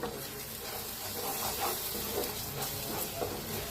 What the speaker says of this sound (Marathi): लाल तिखट, चांगलं मिक्स करून भाजून घेऊया.